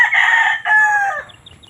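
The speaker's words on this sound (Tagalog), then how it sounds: "sobrang daming manok dito" Roosters at a fighting cock vendor's stall crowded with birds crow loudly and close by, two strained calls running back to back before trailing off into faint background clucks.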